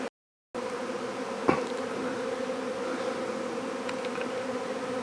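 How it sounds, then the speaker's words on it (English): Honey bees from a swarm hum steadily up in a tree outdoors, a continuous, fairly close drone of many wings, with one brief louder buzz as a bee passes near. "There's still some bees up in this tree"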